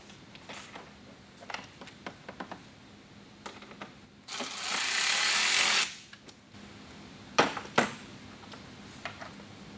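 A screw with a washer is driven into the lower mud flap insert on a Toyota GR86, with scattered clicks and ratcheting, then a burst of about two seconds of power driver whir and further taps.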